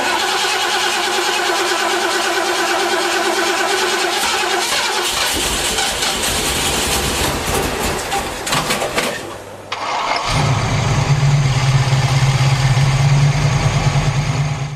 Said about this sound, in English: Trying to start the car in the morning, afternoon, you're out somewhere and you turn the key but you keep trying and trying